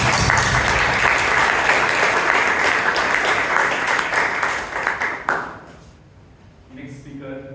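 An audience at a Bangalore Toastmasters club meeting claps for speakers, with loud, even applause that fades out after about five seconds, leaving a quiet room and a short tonal sound at the end.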